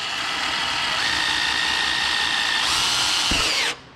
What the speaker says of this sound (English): we've got our drill, and we're gonna go straight through the center of our